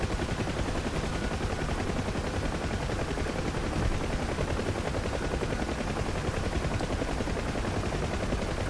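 A Huey helicopter in the DCS flight simulator fires rockets, a dense continuous roar of rotor noise and rapid repeated launches filling the whole stretch at steady loud level, with no talking.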